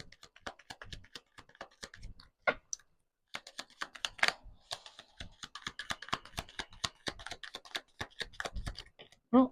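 Rapid dense clicking and riffling of a card deck being shuffled for a reading, bursts of crisp snaps with a brief pause, close and fairly loud.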